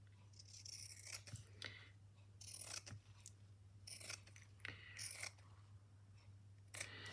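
Scissors snipping through a man's shirt fabric, several crisp cuts in uneven bursts close by over a steady low hum, with no voices.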